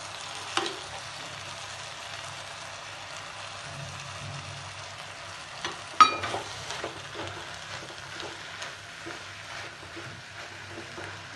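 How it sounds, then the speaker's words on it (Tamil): Ridge gourd sautéing with cumin and pepper for peerkangai paal kadayal: a soft, steady sizzle in a pan with occasional spoon scrapes and a sharper metal clink partway through. "இப்போ சீரக மிளகு போட்டு வதக்கிக்கலாம்"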